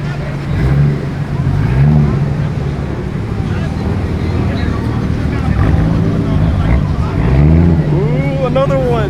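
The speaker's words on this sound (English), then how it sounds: "Woo, and another Supra." At a Caffeine and Octane car meet in Atlanta, a Toyota Supra drives past with a steady engine rumble and a rev toward the end, mixed with wind noise and excited voices of nearby onlookers.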